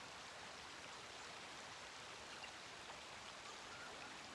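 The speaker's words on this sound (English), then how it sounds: "listen to the sound of the water" Steady, even water sound with a soft rain-like patter, constant and fairly faint, played for relaxation and continuing without change or breaks.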